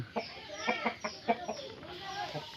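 Backyard aseel chickens clucking in a series of short, close calls with soft rustling between them, no talking over the sounds.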